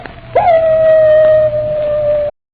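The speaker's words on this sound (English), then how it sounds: "Captain Drummond, that howl, it's the wolf dog." A wolf dog in a radio drama lets out a single long, loud howl that rises sharply and then holds a steady, drawn-out tone before cutting off, heard alone with no voices.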